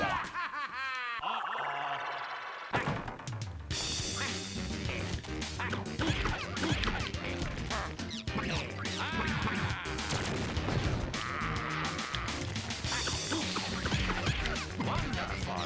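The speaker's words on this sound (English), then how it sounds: "Let's get rid of these birds." Duck-like birds quacking in the Wario World video game, with smashing hits and game music in a busy, continuous mix.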